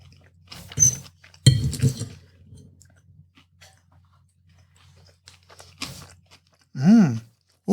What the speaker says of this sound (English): You don't need to hear me chewing on air.